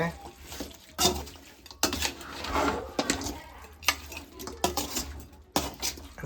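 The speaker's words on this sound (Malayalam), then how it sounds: "നന്നായിട്ട് ഇളക്കി കൊടുക്കാണ് കേട്ടോ." A spoon stirs food in a metal pan, giving repeated clattering scrapes and knocks against the sides at an uneven rhythm, close and fairly loud, with a voice speaking in the background between the strokes.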